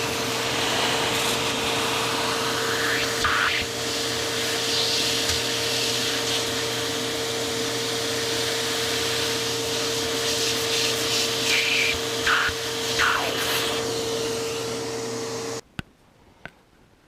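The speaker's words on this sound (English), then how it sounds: "I'll vacuum it up and we'll see if it looks any better." A vacuum cleaner sucks ash out of a Quadra-Fire 5700 ACC wood stove with a steady, close whine and rough scraping rattles, then shuts off near the end, leaving a couple of faint knocks.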